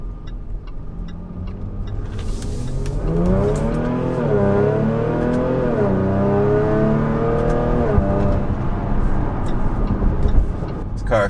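Jaguar F-Type with its 8-speed paddle-shift gearbox accelerating in sport mode with the active exhaust open, a loud, close engine note rising in pitch through successive gears, surging and dipping before settling back to a rumble.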